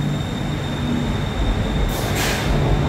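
Bangkok's elevated metro rolls past in a steady, loud rumble of wheels and carriages, with a brief hiss near the end and no voices.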